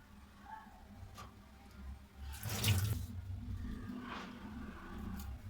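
Food being rinsed under a running kitchen tap while seasoned with salt, turmeric and chilli powder, a steady splash of water into a sink with a louder gush in the middle, close and continuous, no talk.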